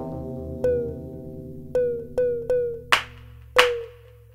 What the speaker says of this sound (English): I like the clap sound and also this effect sound.